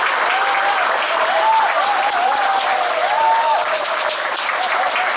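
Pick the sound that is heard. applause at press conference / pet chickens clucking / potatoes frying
applause at press conference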